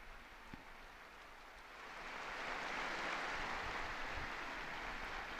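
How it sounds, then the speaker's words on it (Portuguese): A large outdoor crowd at the papal Angelus applauds a newly beatified figure, the clapping swelling gradually into a broad, distant, rain-like wash that continues steadily without speech. "Um aplauso ao novo beato."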